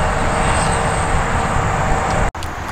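A Wheeling and Lake Erie diesel locomotive idles nearby on the Akron line, a steady broad rumble with a faint tone that holds evenly before a sudden brief dropout and then resumes.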